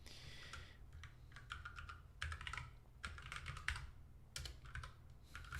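Quiet, steady clatter of fingers typing on a computer keyboard, with rapid key taps in irregular bursts over a faint background hum.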